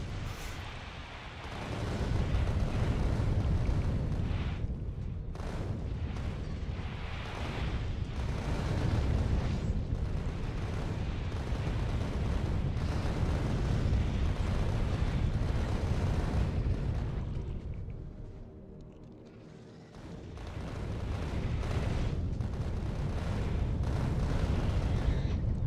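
Missiles firing and exploding in the video game Factorio: a continuous heavy barrage of booming blasts and rumbling detonations that dips briefly partway through, then builds again to a loud roar.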